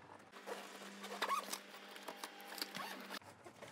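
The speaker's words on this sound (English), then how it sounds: "it expanded quite a bit by just opening that zipper" A zipper on a carbon-fiber Tesla Cybertruck backpack being drawn open to expand it, a close, continuous rasping run for a few seconds with a sharp stop at the end.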